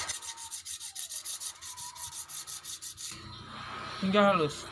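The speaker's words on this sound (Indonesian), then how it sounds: "Sekarang waktunya kita menggunakan amplas yang kasar. Kita amplas hingga halus" Rhythmic back-and-forth scraping of coarse sandpaper over 3mm glass, quick regular strokes, then a short squeaky rub near the end.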